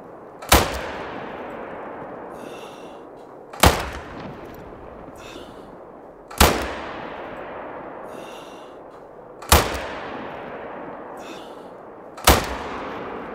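Five loud rifle shots from a .243 fired in the hunting game theHunter Call of the Wild, evenly spaced about three seconds apart, each a sharp crack followed by a long rolling echo tail.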